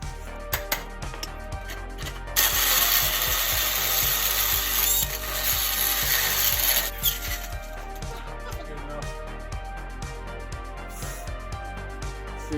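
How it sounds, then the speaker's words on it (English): Tool work cutting a hole through the inside of a car taillight for the brake light, during a BMW E39 to 1955 Ford body swap: a dense burst of grinding noise in the middle between lighter scraping and clicking, close and alone. "I'm now going to make the hole inside the tail light for the brake light to come through"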